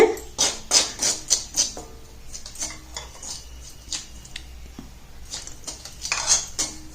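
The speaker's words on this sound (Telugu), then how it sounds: "ఆ జ్యూస్ని కొంచెం కొంచెంగా పోసి కలుపుతాము చూడండి" Henna paste is stirred in a bowl as leaf juice is poured in, giving quick rhythmic clicking and scraping strokes, sharp and close at first, then softer and uneven.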